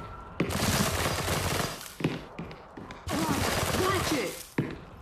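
Game gunfire in the shooter After the Fall, quarantine center on master difficulty: long, loud bursts of rapid shots in two stretches, with a few single cracks between.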